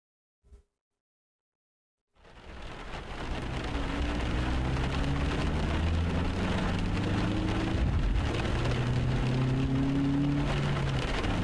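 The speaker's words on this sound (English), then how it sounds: "Inside a car, I guess. Rain. A windshield." Steady rain pours onto a car windshield in Beyond R: Rule Ripper, rising from silence after a single faint tap into a constant loud hiss with low rumbling beneath.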